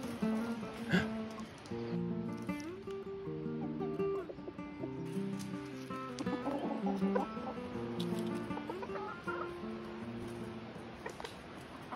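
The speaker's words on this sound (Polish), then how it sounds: "Nie mogę uwierzyć, że to są dzikie koguty." A flock of wild roosters in the Azores cluck and murmur continuously nearby, overlapping calls rising and falling outdoors, with a few sharper squawks.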